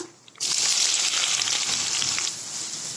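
Chopped large onions hit hot oil for mushroom gravy with a sudden loud sizzle that continues steadily, frying close by until browned, with a hiss that eases slightly toward the end.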